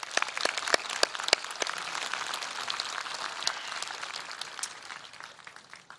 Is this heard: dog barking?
no